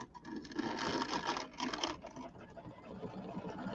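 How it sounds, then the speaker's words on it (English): An embroidery machine stitches satin and decorative stitches on a fall settee pillow, its needle running in a fast, steady mechanical chatter with slight shifts in pace, close and fairly loud throughout. "now we're going to do the satin stitches and the decorative stitches on the inside."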